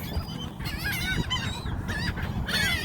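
Geese honk repeatedly at a bird park in New Orleans, a close, busy chorus of nasal calls overlapping in quick succession without speech.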